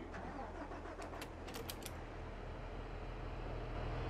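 In Farming Simulator 22, a big blue tractor's engine cranks and catches, then settles into a steady low idle rumble, with a few light metallic clicks early on.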